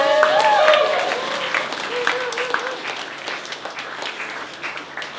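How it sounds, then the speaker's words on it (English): Applause rises for everyone who helped run an anniversary awards event, starting loud and fading gradually, with a voice speaking over the clapping early on. "Can we please get another round of applause for everyone who's been involved?"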